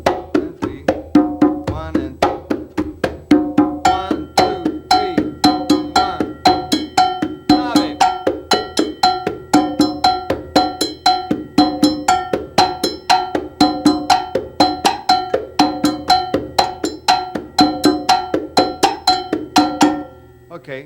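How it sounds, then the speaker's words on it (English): Conga trio patterns with a cowbell mounted on a bracket, played by a solo percussionist: a steady, loud, repeating groove of bright metallic cowbell strikes over open and slapped conga tones, continuous for about twenty seconds with no talking. "So I have another bracket with a cowbell on it."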